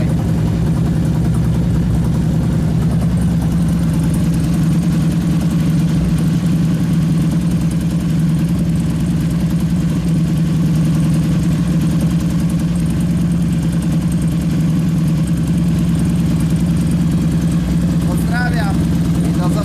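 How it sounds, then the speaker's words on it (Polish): A 2002 Harley-Davidson Road King engine idles steadily after a spark plug replacement, a loud, even low rumble that runs throughout, with brief faint sounds near the end. "Motor pracuje w miarę, musi się nagrać."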